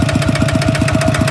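A two-wheel walking tractor engine runs loud and close, a steady rapid thumping beat with a constant mechanical drone and rattle, no voices over it.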